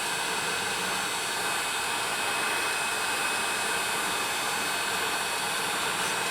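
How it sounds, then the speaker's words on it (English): A heat gun blows hot air in a loud, steady roar without break, close by and heard alone. "And once this hot gun's warmed up"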